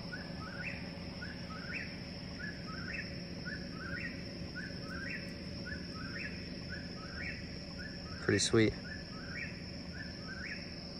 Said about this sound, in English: This bird is going crazy.